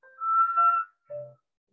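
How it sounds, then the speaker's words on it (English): Two breathy whistled inhales through pursed lips during a Kundalini-style yoga breath in a chair yoga class, a longer wavering tone followed by a shorter lower one, close and clear with no talking. "So the whistle is just that way of pulling that air in."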